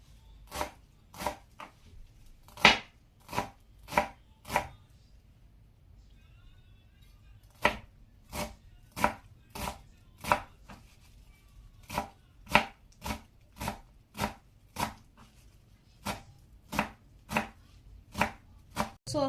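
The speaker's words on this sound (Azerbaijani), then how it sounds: "göyərtilərimizi doğrayırıq." A knife chops fresh herbs on a board for a red cabbage salad: crisp, close, evenly spaced chops in a steady rhythm, about thirty strikes with a brief pause midway, no talking.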